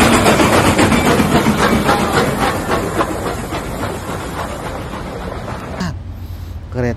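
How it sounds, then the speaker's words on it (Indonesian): A steam locomotive chuffs and hisses loudly nearby with rhythmic puffing and rumbling, fading as a strong hiss cuts off near the end. "kereta api uap"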